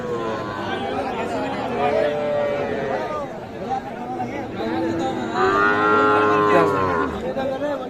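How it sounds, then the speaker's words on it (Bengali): Young calves moo again and again at a busy open-air cattle market in Bangladesh, loud and nearby, over a crowd chattering in the background and someone talking. "ছোট ছোট বাছুর"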